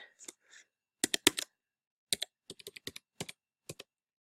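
Keys on a computer keyboard are tapped in short clustered bursts while a username and password are entered, with crisp close clicks separated by brief pauses in an otherwise quiet room.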